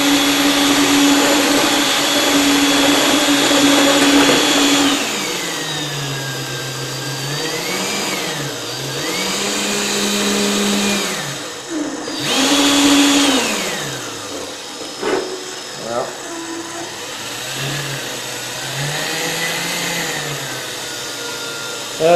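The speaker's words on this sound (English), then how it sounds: "it's just a drill." A power drill whines during a sand clean-up at Secret Creek Beach, its pitch rising and falling as the motor speeds up and slows in repeated bursts, loud and close with a short pause midway.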